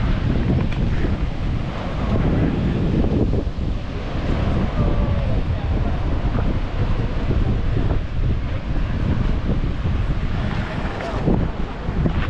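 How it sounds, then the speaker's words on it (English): Atlantic Ocean surf and strong gusting wind at the Kasbah of the Udayas in Rabat, Morocco, a constant loud roar with buffeting low rumble across the whole stretch. "behind me is a beautiful, magnificent, overwhelming Atlantic Ocean"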